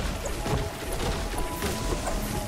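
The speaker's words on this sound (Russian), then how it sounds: "Попробуйте расколотить пару машин и деревьев." Cars and trees being smashed for resources in Fortnite, a rapid run of hard whacks and crunching impacts over busy game noise, close and loud.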